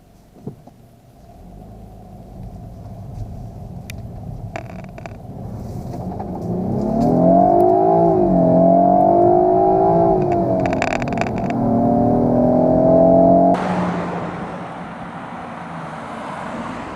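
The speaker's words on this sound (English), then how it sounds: "And now I finally get to drive the F30." A 2016 BMW 328i xDrive F30 luxury line sedan with a 241-horsepower engine driving, heard from inside as a low engine rumble that rises steadily while accelerating, holds, then climbs again through a gear change, with no talking.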